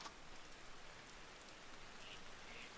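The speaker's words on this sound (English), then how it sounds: "Started raining again" Steady video-game rain falls softly and evenly in a continuous hiss of drops, faint and unbroken, with no voices.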